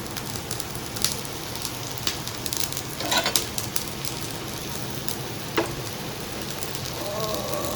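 Paneer chilla sizzles in ghee on a hot pan over a high gas flame, a steady close crackling hiss with scattered sharper pops and spits throughout.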